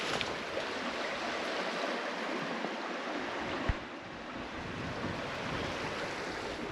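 The crystal-clear Cossatot River rushing past, a broad steady wash of flowing water with some wind across the microphone, no voices.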